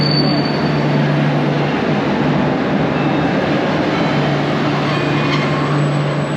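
A loud, steady rumble of a train passing through a station in Sarajevo, with a low hum and faint high squeal, continuous throughout with no voices.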